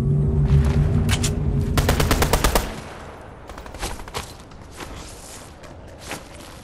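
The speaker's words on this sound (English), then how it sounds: "Someone's firing, I know that much." Rapid machine-gun fire rattles loudly in quick bursts in a Spider-Man video game, then breaks into scattered single shots and footsteps as the firing dies away.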